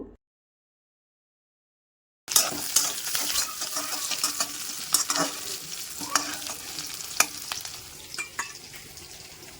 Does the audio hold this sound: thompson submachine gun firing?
no